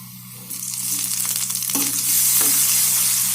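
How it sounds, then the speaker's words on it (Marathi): Tomatoes hit a hot pan for a spicy tomato chutney, and the sizzle surges sharply and then holds loud and close, with a couple of stirring scrapes and no voices. "आता आपल्याला टोमॅटो ॲड करायचा आहे"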